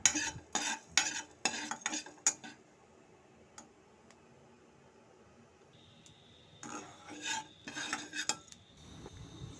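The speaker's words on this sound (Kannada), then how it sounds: "ಸ್ವಲ್ಪ ಮೆಂತ್ಯ ಜೀರಿಗೆ ಮತ್ತು ಕಾಳು ಮೆಣಸನ್ನು ಹಾಕ್ಕೊಂಡು ಚೆನ್ನಾಗಿ ಹುರ್ಕೋಬೇಕಾಗುತ್ತೆ" Fenugreek, cumin and black pepper stirred and dry-roasted in a pan over low heat, a spoon scraping and clinking against the metal in quick bursts, with quieter pauses between, close by.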